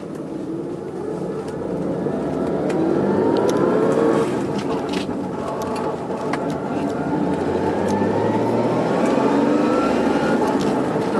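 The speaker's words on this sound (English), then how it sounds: "you're gonna hear a little noise because, like I say, the throwout bearing's out" A 1984 BMW 325e with a five-speed manual and a failed throwout bearing runs in a steady, loud drone, a faint grinding whine riding over the engine noise throughout.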